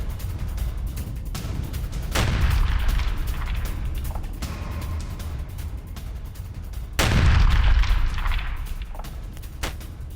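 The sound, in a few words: explosions from attack on Russian tank convoy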